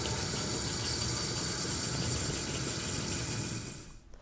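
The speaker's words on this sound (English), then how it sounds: "So I'm going to go ahead and fill the pot with water." A pot fills with running tap water for chicken stock in a home kitchen, a steady rushing gush heard close up that fades out abruptly near the end.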